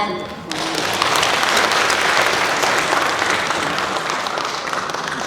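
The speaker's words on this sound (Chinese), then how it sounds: "掌声欢迎他们" An audience at a Yue opera performance in Los Angeles breaks into loud, sustained applause, many hands clapping steadily after a brief spoken line.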